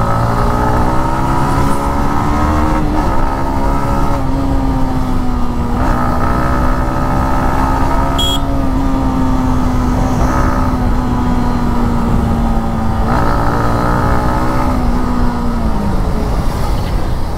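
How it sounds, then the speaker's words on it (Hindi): A 2022 Yamaha MT15 V2 motorcycle engine hums steadily while riding, its pitch holding fairly even with brief shifts and swells, loud and close with wind noise throughout and no talk. "साउंड की बात करें वो भी MT का है, वो काफ़ी अच्छा आ रहा है।"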